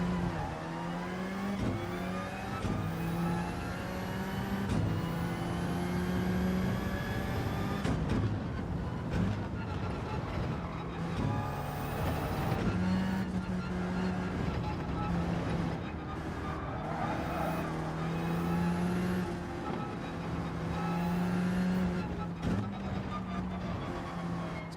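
Engine drone of a car in a racing video game, a steady mid-loud hum with rising and falling pitch as it revs, some brief shifts, running continuously for the whole stretch.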